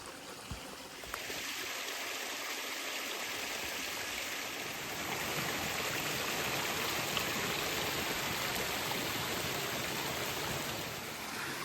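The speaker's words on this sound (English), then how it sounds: "So I'm stood right on top of a fairly reasonable sized waterfall." A small waterfall on a moorland stream roars in a steady, close hiss of rushing water that begins abruptly and then holds constant.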